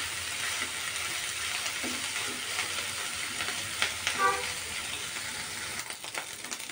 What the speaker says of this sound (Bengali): সব কিছু আমাকে একটু কড়া করে ভাজতে হবে, যেহেতু শুকনো মাছগুলো আছে।